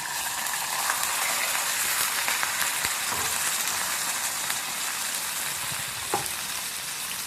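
Chicken frying in about two tablespoons of oil for a chicken tikka pizza, giving a steady, close sizzle throughout with occasional light clicks and scrapes.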